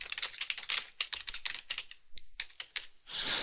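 Rapid typing on a computer keyboard while entering a new WordPress blog post, a steady close run of clicky keystrokes with one brief pause, no talking.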